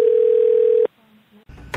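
Telephone dial tone as a call connects, a loud steady tone that cuts off abruptly, then faint line noise and a short burst of clatter.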